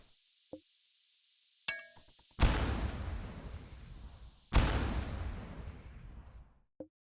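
Two landmine detonations in RimWorld, each a sudden loud crack and rumble that decays over about two seconds, preceded by small clicks and a short metallic clink, with no talk.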